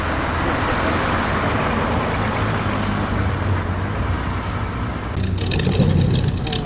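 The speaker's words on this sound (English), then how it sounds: "That is quite the V8 soundtrack." A Ferrari 250 SWB engine at the Bicester Heritage Sunday Scramble gives a continuous, fairly loud rumble with steady road noise, shifting slightly near the end.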